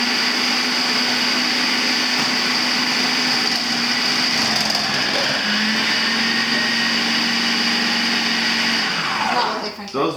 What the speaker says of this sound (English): So now we're gonna try to french fry. We're gonna make french fries.